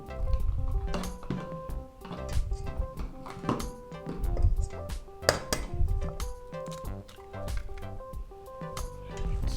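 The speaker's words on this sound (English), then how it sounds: "can you crack 2 eggs in here?" Two eggs cracked one after another into a bowl in a home kitchen, with sharp shell clinks and taps against the rim ringing out among other dish and utensil clatter, fairly close and steady throughout.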